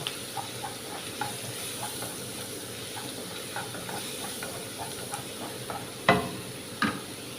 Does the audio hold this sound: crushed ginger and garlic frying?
yes